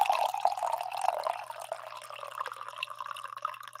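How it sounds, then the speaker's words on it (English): Coffee being poured into a cup, a close, steady liquid stream with light gurgling that fades slightly toward the end, heard alone without talk. "I'm going to pour a little more coffee here."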